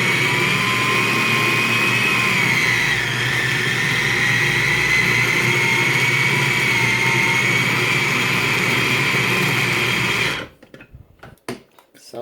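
A food processor whirs loudly and steadily while mixing stiff dog pill pocket dough without white flour or dairy, running for about ten seconds before cutting off abruptly, followed by a few brief clunks.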